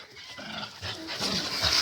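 Two dogs panting and whimpering close by on a farm plot after a potato harvest, short excited breathy bursts growing louder toward the end, no talk.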